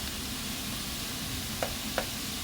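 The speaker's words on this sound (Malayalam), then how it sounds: "ഇതൊന്ന് വഴണ്ടി വരട്ടെ നല്ലതുപോലെ." Onion and slit green chillies with salt sauté in a pan, a soft, even hiss running low and steady throughout, with two faint tapping sounds near the end.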